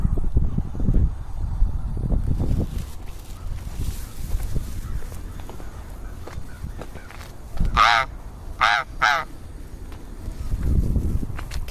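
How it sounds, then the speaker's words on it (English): Several crows caw in short harsh bursts a little way off, over outdoor ambience with some low rumbling and shuffling movement. "look, there's a lot of crows. They're all crying out."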